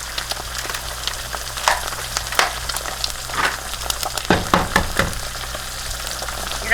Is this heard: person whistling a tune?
no